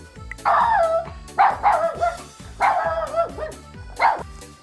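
A big dog barks repeatedly, deep and loud, in a quick irregular series of about five woofs close by.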